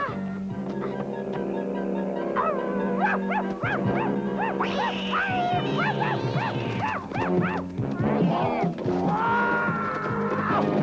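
Dog barking and yipping in a 1985 animated French film, a run of excited barks and whines over a busy soundtrack with voices and music.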